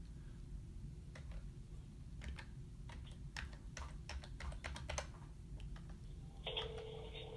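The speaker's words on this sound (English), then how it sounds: "So you can just start typing it." Numbers are typed on a computer keyboard during a phone call with a fake Windows tech support caller, a quiet run of separate key taps in uneven bursts, faint and close, with no talk.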